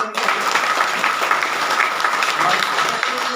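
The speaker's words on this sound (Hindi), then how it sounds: "तो एक बार लखन जी के लिए जोरदार ताली होनी चाहिए।" Loud, dense applause from an audience at an award gathering with garlands, continuous hand clapping filling the whole stretch at close range.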